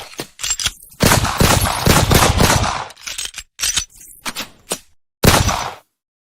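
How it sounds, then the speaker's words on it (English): Rapid bursts of gunshot-like shooting cracks, loud and close, firing in clustered volleys with short gaps between them and no talking. "They probably think somebody shooting shit."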